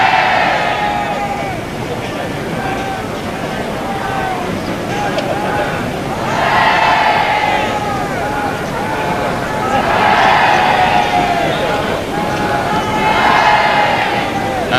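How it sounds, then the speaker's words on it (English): Crowds shout and cheer along the 1981 royal wedding procession route of Charles and Diana, a continuous roaring mass of voices that swells in repeated waves. "crowds now shouting and cheering"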